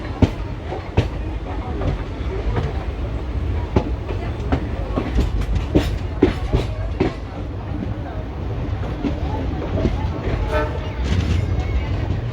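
The Teesta Torsa Express rolls along with steady rumbling and rhythmic clickety-clack over the rail joints, punctuated by sharp knocks and short horn toots, with a voice speaking faintly at times.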